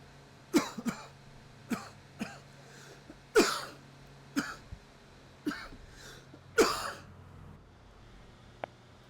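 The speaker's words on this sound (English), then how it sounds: "Picked up a bit of a cough there." A man coughs about eight times in short, separate bursts spread at irregular intervals, fairly quiet and close, with no talking.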